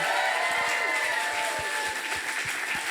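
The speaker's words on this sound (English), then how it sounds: "give this guy a round of applause" Live show audience bursts into sustained applause, dense steady clapping filling the room without speech.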